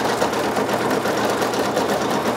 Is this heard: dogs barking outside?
no